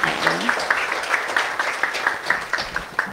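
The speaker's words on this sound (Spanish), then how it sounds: "La recibimos con un fuerte aplauso." Applause from an audience at an International Women's Day event on preventing gender violence, moderate clapping with distinct individual claps audible, steady and somewhat thin, a voice briefly present at the start.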